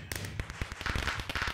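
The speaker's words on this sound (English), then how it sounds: "And we're back at the fireworks." Rapid crackling bursts of fireworks in the Minecraft video game, a quick series of sharp pops and crackles at close range with no talk over them.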